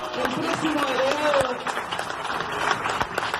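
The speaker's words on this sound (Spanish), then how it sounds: "que aparte un aplauso para el compañero Minio" Applause at a union assembly, steady crowd clapping throughout with voices and shouts mixed underneath.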